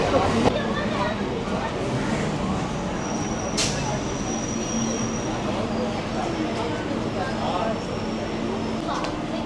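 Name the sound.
Kolkata circular rail local train arriving at Lake Gardens station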